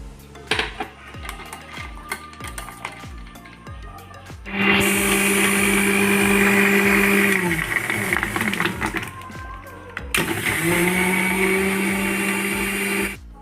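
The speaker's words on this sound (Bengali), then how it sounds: "আমি এই মিক্সারটা 2 থেকে 3 মিনিট মতো ব্লেন্ড করে নেব" A kitchen mixer-grinder blends cold coffee made with ice, coffee mix and milk powder, whirring loudly and steadily in two long close bursts, stopping briefly in between, after some clinking from handling the jar.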